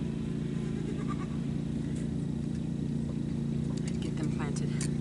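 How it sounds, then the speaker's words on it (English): A tractor engine drones steadily nearby with a strong low, even hum across the whole stretch, while a few faint higher squeaks or calls break in near the end. "That is my mother coming over on her tractor."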